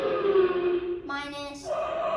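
A siren effect played on a keyboard synthesizer wails as a steady electronic tone with a pitch shift partway through, short and fairly loud on its own.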